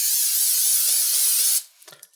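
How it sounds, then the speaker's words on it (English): Cooking spray hisses steadily into a nonstick muffin tin in one continuous close burst of about a second and a half, then cuts off, leaving a few faint clinks. "I want to give it a little spray with some cooking spray"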